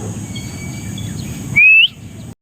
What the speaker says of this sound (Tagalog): Ayan, nadadating na yung mga ibon natin.